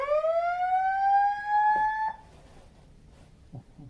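A hotel fire alarm test blares as a loud, steady electronic tone for about two seconds, then cuts off abruptly, leaving a quiet room with faint rustling.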